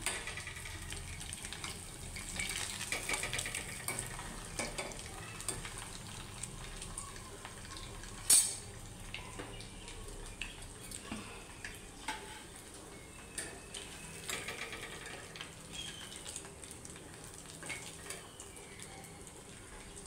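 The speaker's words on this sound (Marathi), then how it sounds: "आपण आता हे सगळ्या बाटी व्यवस्थित तळून घेऊया." Daal baati frying in ghee in a pan, a soft steady sizzle with faint bubbling and occasional clinks, quiet and close, with little talk.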